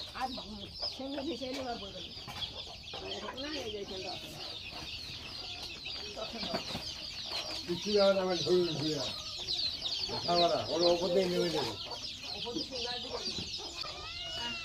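A group of chicks clucking and chirping in a lively commotion, with continuous overlapping calls rising and falling close by for the whole stretch.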